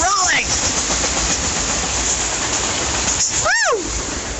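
A KCS freight train with tank cars and intermodal cars rolls steadily past a station in Clinton, a continuous loud rumble of wheels and rail noise, with a horn sounding near the end as people cheer.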